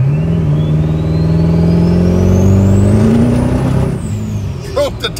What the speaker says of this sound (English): Broke the tires loose.